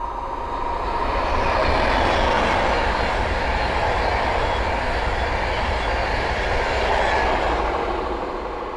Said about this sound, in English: the next train to pass by is the Atlanta West Coast Class 390 Pendolino